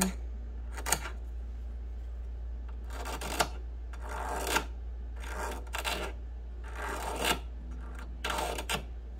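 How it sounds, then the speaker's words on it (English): A wire-wrapped charm ring is filed against a bench pin in slow, even rasping strokes, about seven of them spaced a second or so apart, close up over a steady low electrical hum. "Just filing gently."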